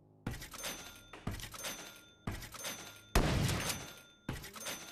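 Gunshots in a zombie survival game, five separate sharp reports spaced about a second apart, each with a short ringing tail, loud and near with no talking.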